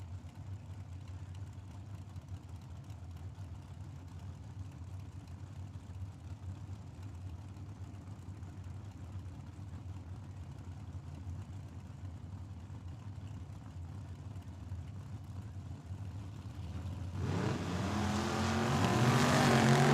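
A drag racing dragster and a Chevy Camaro idle with a steady low rumble at the strip, then erupt into a loud rising roar as they launch near the end.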